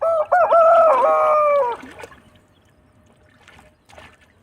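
A rooster being trained to swim crows loudly once, a long cock-a-doodle-doo close by, followed by quieter scattered clucks and faint splashing or movement.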